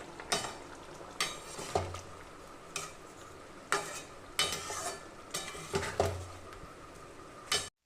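A spoon stirs a tablespoon of ghee and garam masala into a prawn and jackfruit curry, giving close, irregular scraping clinks against the pan over a soft steady sizzle, with no talking.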